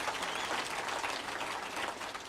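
An audience applauds steadily for the spouses at a live political address in Kenya, a dense, even wash of clapping that holds throughout without a break.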